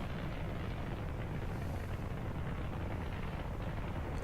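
An F1 rocket engine firing in Kerbal Space Program with Realism Overhaul, a steady, dense roar that holds at constant loudness throughout with no break.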